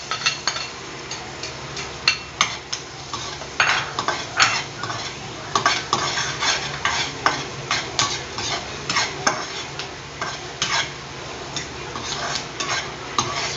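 Onion sautéing in a pan for pork giniling, stirred steadily with a utensil that scrapes and clinks against the metal in repeated strokes over a soft continuous sizzle, close and alone.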